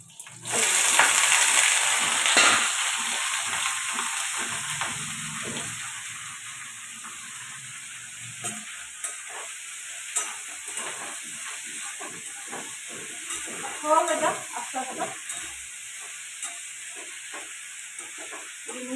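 Potatoes fry with tempering spices and green chillies, opening with a loud burst of hissing sizzle that settles into a softer, steady frying sound with occasional stirring clicks.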